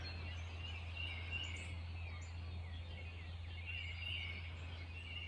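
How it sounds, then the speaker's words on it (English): Birdsong at sunrise on a May morning, soft distant chirps and warbling calls repeating over a constant low hum, quiet and unbroken, with no voices. "Birds are up."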